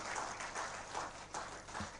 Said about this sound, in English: Can we give a round of applause to that journey that we've come through?